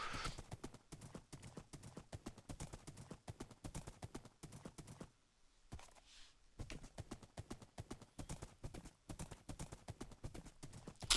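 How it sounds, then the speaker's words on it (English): A video game horse gallops with quick, even hoof clip-clops, fairly faint and steady, broken by a short near-silent gap midway before the rhythm picks up again. "It's a relatively fast horse"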